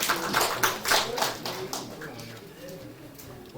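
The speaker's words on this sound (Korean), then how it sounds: "하나님께 영광 박수 올려드리겠습니다." Congregation clapping during a church worship service, a burst of irregular hand claps that fades toward the end, with a voice and some background sound mixed underneath.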